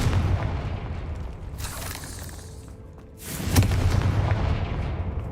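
A Confringo fire spell goes off in Hogwarts Legacy with two booming, shattering blasts about two seconds apart, each bright and loud over a rumbling game background.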